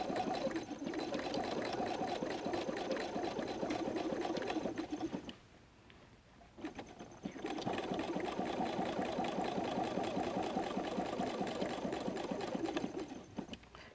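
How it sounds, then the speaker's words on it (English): Sewing machine stitching a messenger bag, running in a steady, loud mechanical whir with a dense rapid rhythm, pausing briefly partway through before resuming for another long run. "The machine may need a little help getting started here, so you can help pull it along underneath the foot."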